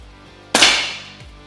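A single sharp, loud air rifle shot from an Air Venturi Avenger in a 3D-printed chassis, charged to about 1900 PSI, with a bright crack that decays over most of a second and a faint thud at the end.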